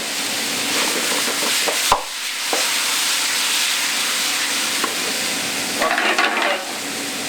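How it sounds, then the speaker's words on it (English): Ravioli stirred in a pan with a splash of white wine, a steady close sizzle and hiss with scraping utensil knocks against the pan, alone without voices. "So you stir those raviolis"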